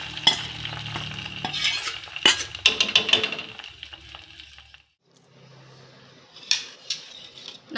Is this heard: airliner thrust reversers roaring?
no